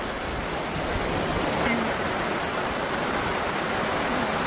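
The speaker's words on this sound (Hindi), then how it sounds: "क्योंकि अब यहाँ बरसात होनी शुरू हो गई है" Rain begins falling outdoors as a soft, steady hiss of drops spreading evenly across the scene, faint and continuous throughout.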